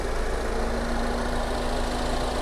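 A Mini Clubman Cooper S engine idles steadily in its engine bay, a continuous close hum with a faint constant whine and no changes in pitch or level.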